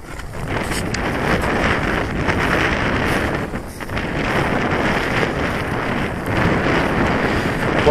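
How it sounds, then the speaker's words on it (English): Strong wind racing over the top of a shallow hill slope, roaring steadily and buffeting the microphone with constant broadband rumble for the whole stretch. "So that wind is very strong."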